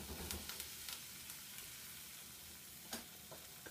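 Red wine bubbles and sizzles as it reduces in a pan with softened apples, a faint continuous fry with a few sharp spatter pops.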